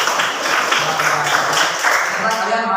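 Students clapping together in a classroom during a religious lesson, a short burst of brisk, fairly loud applause with voices mixed in as it ends.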